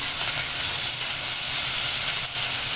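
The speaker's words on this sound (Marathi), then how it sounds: "नंतर आपण घालणार आहोत इथे कांदा आलं लसूण पेस्ट" Onion, ginger and garlic paste sizzles in a pan for a Konkan-style cashew curry, a loud, continuous steamy hiss close up with no talk.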